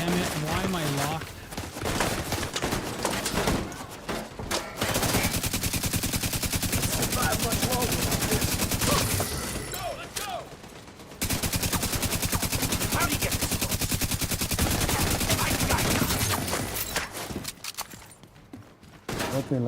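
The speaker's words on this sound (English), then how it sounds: "Nothing like shooting at people and listening to metal." Dense automatic gunfire in a shooter video game, sustained rapid bursts that run almost continuously at high level with only brief breaks, likely with some game sounds mixed in.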